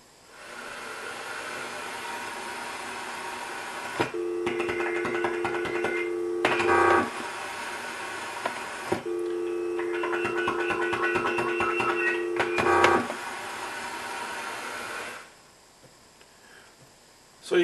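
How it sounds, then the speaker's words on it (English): A stereo receiving an FM telephone transmitter as the handset is lifted and replaced: steady hiss gives way to a tonal hum with clicks, twice, each cut off by a click back to hiss. "you'll hear the transmitter come on and the transmitter turn off when I lift the handset up and I put it back down"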